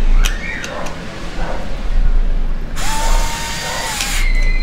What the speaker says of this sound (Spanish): Voy a poner la opción de destornillar.